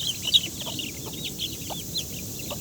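An angry mother hen clucks in a quick series of sharp, agitated calls, fairly close and steady over outdoor background noise.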